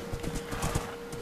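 Horse hooves clip-clop in a quick, close rhythm in the Minecraft video game, with a short neigh mixed in, all fairly quiet and steady over just over a second.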